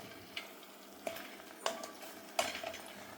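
Pokala vegetable curry being stirred in a pan, giving a few soft scraping strokes at a slow, uneven rhythm over a faint sizzle, with no voices.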